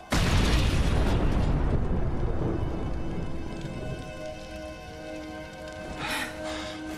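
A detonating explosive charge in the State of Decay video game bursts loudly at the start, then a long rumbling, debris-filled roar fades slowly over several seconds.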